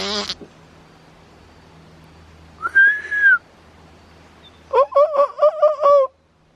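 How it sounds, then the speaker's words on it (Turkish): A lyrebird calls outdoors while digging: a short burst, then a single clear whistled note, then a run of loud, rapid, harmonic gobbling calls, with quiet gaps between. "Arkadaşlar yalancı kuşu bulduk burada."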